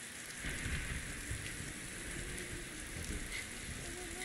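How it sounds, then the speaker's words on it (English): Rain falling steadily, a faint, even hiss of drops with occasional louder patters, continuous throughout and with no talking over it. "Gotta hide from the rain."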